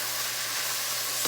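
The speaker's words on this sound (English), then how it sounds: "When the onion is really sauteed" Onion sautéing in a pan for a from-scratch spaghetti sauce, a steady close sizzle and hiss with a faint low hum running underneath, no voices.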